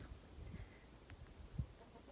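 Chickens in a screened-in homestead coop give soft, scattered clucks at a middle distance over a steady low outdoor rumble, with no talk.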